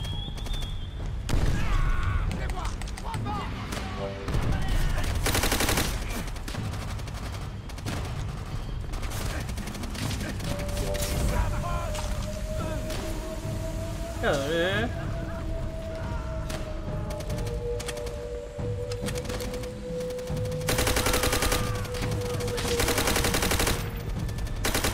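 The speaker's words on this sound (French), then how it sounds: "Mais allô, je me fais canarder." Gunfire in Call of Duty: World at War, with dense bursts of rifle and machine-gun shots, scattered booms and mechanical clatter, loud and intermittent over about 25 seconds.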